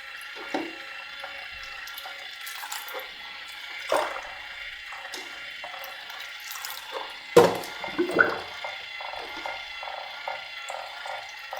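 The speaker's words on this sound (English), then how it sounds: "And with the washing, I will just pour a few times water inside." Wash water poured several times into an AGO film processor in a darkroom colour-print setup: a steady liquid rush with small splashes and clunks, a louder splashing burst toward the end, close and with no talk.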